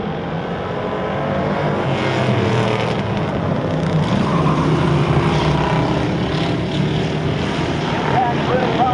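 Race cars roaring off together at the start of a heat, a dense, steady wall of engine noise with a commentator's voice running over it throughout.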